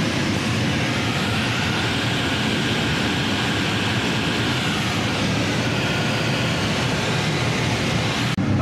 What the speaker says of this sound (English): final glide back to the airfield, just cruising at 100 knots now